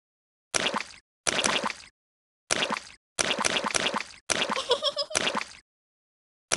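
Cartoon water splashes from jumping in muddy puddles in a Peppa Pig video game, six short bursts of wet plopping and slapping with brief silent gaps between, fairly close and clear.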